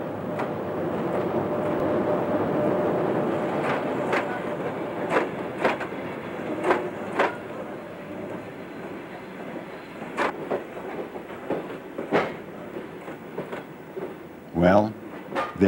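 A Trans-Siberian train rumbles along the rails with periodic clicking and clacking of wheels over joints, moderately distant, with faint voices nearby.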